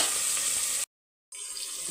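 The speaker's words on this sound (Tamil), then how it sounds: "இப்போ வதக்கி விட்டுருங்க." Onions, green chillies and curry leaves sautéing in hot oil with a steady close sizzle, which cuts out abruptly for a split second and then resumes slightly quieter.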